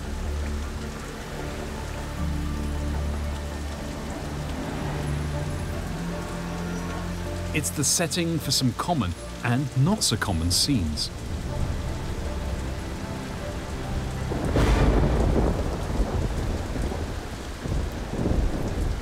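A heavy monsoon downpour with strong winds lashes Singapore, a dense, continuous hiss of rain on surfaces. Sharp crackling bursts and a later rumble of thunder sound midway, while a narrator speaks over the storm.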